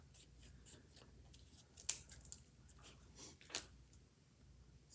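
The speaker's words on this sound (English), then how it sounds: "I'm going to trim off the extras just so I don't have a sticky bookmark" Scissors trim the edges of a laminated pressed flower bookmark. The quiet, close snips come as a couple of sharper cuts among soft rustling.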